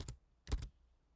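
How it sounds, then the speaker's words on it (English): Two quiet, close key presses on a computer keyboard while working in Vim, a quick clack followed half a second later by a slightly stronger one, in an otherwise silent room. "Press the escape key. Type U"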